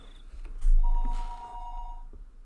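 Telephone ringing through a handset after a short number is dialed in the visual novel Higurashi When They Cry, a steady ring tone sounding once at moderate level over a quiet background.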